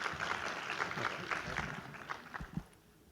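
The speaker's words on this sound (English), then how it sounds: "All right, let's have another round of applause." Applause from an audience at an academic speaking competition, a fairly steady wash of clapping that thins and fades toward the end, with a few louder low thumps near the close.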